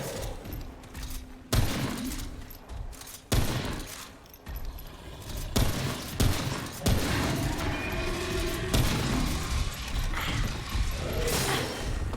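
A weapon mod fires in Remnant: From the Ashes, producing a heavy, rapid barrage of gunfire and explosive booms that rises and falls across several seconds of continuous combat noise.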